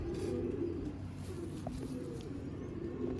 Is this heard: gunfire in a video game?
no